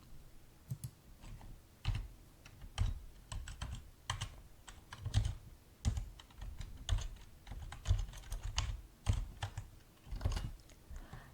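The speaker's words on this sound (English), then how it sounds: "Now let's go to RStudio to see how to type this R command." Steady typing on a computer keyboard while entering an R command, with irregular bursts of close, crisp key clicks and occasional heavier keystrokes, no voices.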